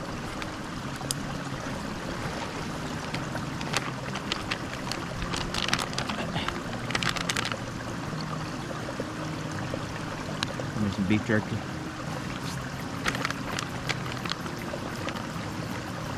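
Creek water running over rocks on a hike to Arkansas waterfalls, a steady close rushing and trickling wash throughout, with a person talking briefly over it.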